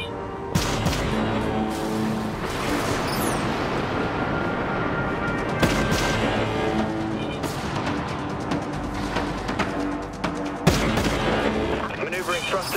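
Artillery fire from a warship in the video game Dreadnought, with heavy booming blasts and dense rumbling explosions layered throughout, loud and continuous with sharp bursts standing out.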